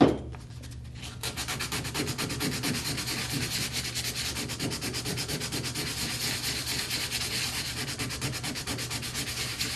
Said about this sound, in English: we're going to come along again with the sandpaper